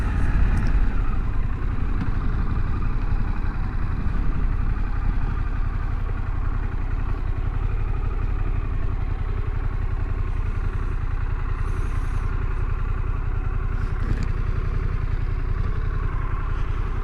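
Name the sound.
motorcycle engine started and idling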